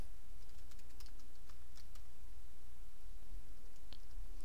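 Quick irregular key clicks from typing a password on a computer keyboard, close and clear over a steady low room hum, no voice.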